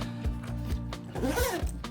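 A camera backpack zipper with pull tabs is drawn along its track in quick repeated strokes, a close, loud, raspy ratcheting rasp with brief pauses between pulls.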